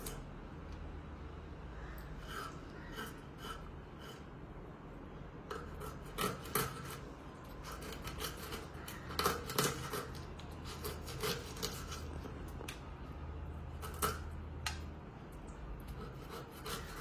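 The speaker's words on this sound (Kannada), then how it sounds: "ಇಲ್ಲಿ ನಮ್ಮಮ್ಮ ಫಿಶ್ ಕಟ್ಟಿಂಗ್ ಮಾಡ್ತಿದ್ದಾರೆ" Fresh bangada mackerel is cut by hand with a knife, giving repeated scraping and rasping strokes with occasional sharper chops, steady and close, over a faint room hum.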